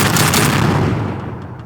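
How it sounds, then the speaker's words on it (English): A shotgun blast in the People Playground video game: one loud, close burst of a shot that rolls off in a long, fading echo, with no voices. "pulls out a shotgun and proves that he's not joking by shooting right above it"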